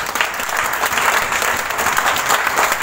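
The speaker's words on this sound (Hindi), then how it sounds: "अपने लिए जोरदार ताली।" Loud, dense applause from a large audience at a direct-selling business meeting fills the moment, steady and continuous without any break.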